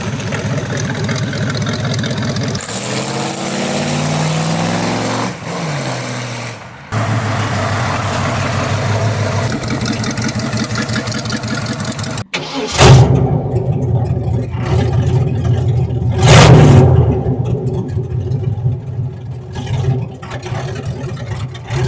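A Chevrolet Camaro engine idles with a steady low rumble, then after a brief cut it revs loudly in two rising bursts close by, settling back to a rough idle.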